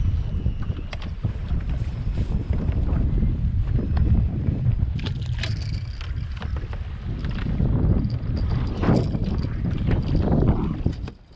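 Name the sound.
strong wind while boat fishing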